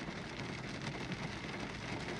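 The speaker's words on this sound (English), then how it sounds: "And it's raining harder now." Rain falling harder, a steady dense hiss of drops pattering on surfaces with no break and no voices, moderately loud throughout.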